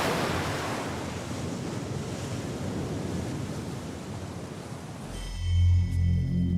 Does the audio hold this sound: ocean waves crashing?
yes